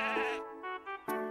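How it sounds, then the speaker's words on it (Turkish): A curly-fleeced sheep in a meadow bleats several times in a row, close and clear. The long wavering first cry is followed by short calls and one final loud bleat. "Çayırdaki kıvırcık koyun meleyip duruyor."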